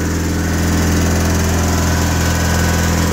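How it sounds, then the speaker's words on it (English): A 1987 John Deere 316 lawn tractor engine runs loud and close, a steady throbbing drone held at high revs throughout. "These things sound like little farm tractors under a load too, once you really get them revved up"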